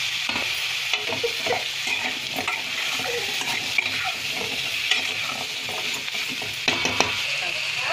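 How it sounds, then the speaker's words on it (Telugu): Eggplant, tomato and drumsticks fry in a pan with a constant close sizzle, while a utensil stirs and scrapes against the pan in irregular strokes. "వేయించుకోవాలి. వంకాయలు, టమాటో, మునక్కాయలు అన్నీ వేసేయాలి."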